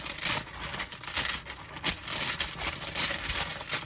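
Tiny Lenormand tiles shaken and jostled inside a cloth bag, a rapid rustling clatter of small pieces tumbling against each other in repeated bursts, close and fairly loud throughout.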